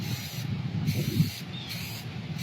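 Spray paint hisses onto a car in several short bursts, a close, sharp aerosol hiss cutting in and out.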